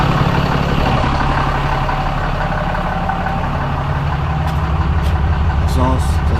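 A Ram 2500 diesel pickup with stock exhaust idles, a steady low rumble that holds evenly throughout, with a voice talking over it.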